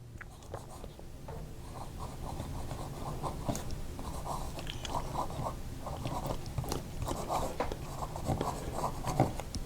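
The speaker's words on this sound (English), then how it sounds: "the nib has this particular sound to it" Pelikan M800 fountain pen with a gold IB nib writes on thin Tomoe River paper, giving a soft, close scratching with irregular strokes and small ticks that continue throughout.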